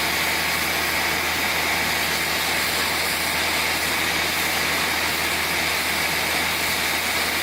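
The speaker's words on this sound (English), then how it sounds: "I'm just leaving the compressor on and the valve open now because it's leaking" Air compressor running continuously with its valve open and leaking while a dent is pushed out of a 2-stroke exhaust pipe, a loud, constant broadband roar and hiss with no pauses.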